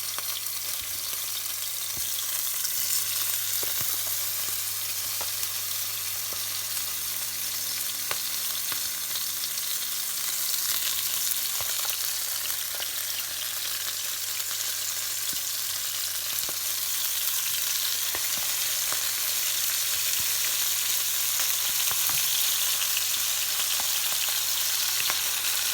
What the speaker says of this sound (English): we'll get the halloumi back where it's been marinating, and we'll put it into the frying pan.